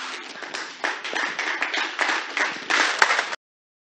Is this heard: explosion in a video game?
no